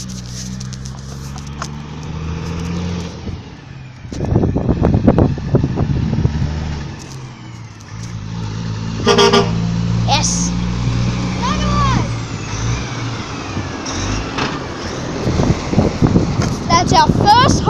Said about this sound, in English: That's our first honk of the video.